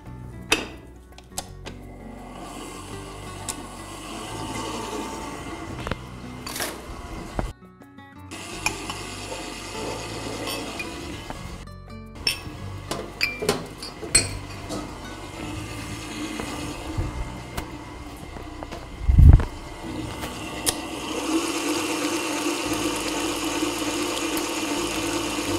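An electric mixer beating yogurt, lemon juice and cake batter for lemon cake, a steady whirring drone with a brief pause partway and scattered clicks and knocks from the bowl throughout.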